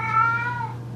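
A house cat gives one clear, drawn-out meow that slides downward, close by, over a faint low background hum.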